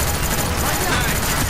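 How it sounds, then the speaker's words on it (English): Flashbang grenades go off in Call of Duty: Black Ops, a loud continuous wash of harsh blast noise and ringing filling the whole moment. "those are flashbangs"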